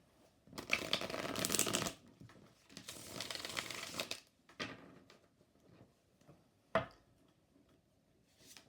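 A tarot card deck is shuffled close by in two long riffling bursts, followed by shorter quiet shuffles and one sharp snap of cards, with no talking.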